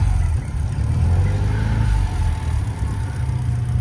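A restored rotary-engined car runs close by, its engine revving in a steady, buzzy drone with slight rises and dips in throttle, no voices.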